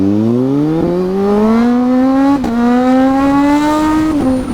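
A Kawasaki Z H2 motorcycle engine revs hard and climbs in pitch through several gear shifts, loud and close, with brief dips between each pull.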